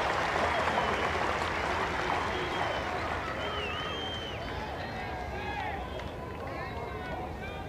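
Enthusiastic cricket crowd at a 1995 Test match in Durban, South Africa versus England, gives a long, broad round of applause with cheering, steady and loud at first then slowly easing, with crowd chatter and whistles mixed in.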